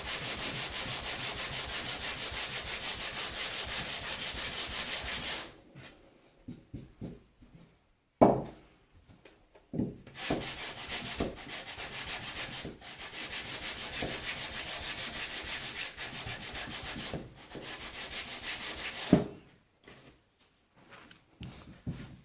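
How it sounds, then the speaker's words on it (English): Wood rubbed with 180 grit sandpaper folded over a sanding block, heard as steady close-up rasping strokes in long runs, broken by pauses and a few knocks of handling. "fold the sandpaper up over the sanding block, and we will finish then sanding with this"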